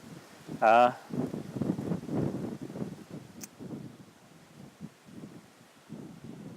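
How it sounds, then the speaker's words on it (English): Wind buffets the microphone in low rumbling gusts while someone talks over it, with a brief tonal squeak early on. "It's very, very windy."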